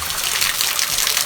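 Waterfall at Susu Cave on Mount Rinjani, a warm therapeutic spring: a steady, close rushing gush of falling water, dense and continuous throughout with no voices.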